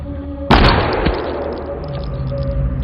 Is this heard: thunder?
no